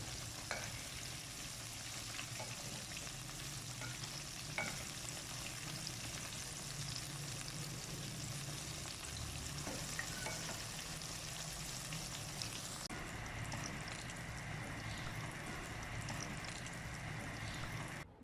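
Eggplant (brinjal) pakoras deep frying in hot oil, a continuous dense sizzle and crackle that stays steady throughout, with a few faint spoon clinks and a slight shift in tone toward the end.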